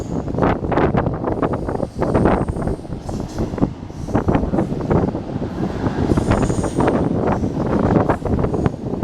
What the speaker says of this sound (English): that really is a scary noise on a train comes tearing up the straightaway